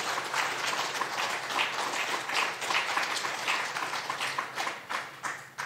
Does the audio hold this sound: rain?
no